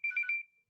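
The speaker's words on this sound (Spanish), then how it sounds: "Justo me está sonando el teléfono, es una locura." A telephone rings with a short bright electronic trill, about three quick pulses within under half a second, fairly faint and fading out, with no talk over it.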